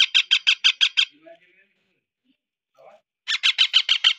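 A baby parrot squawks hard during hand feeding, a fast run of seven or eight harsh, even calls, a pause with a few soft scuffles, then another loud rhythmic burst close by.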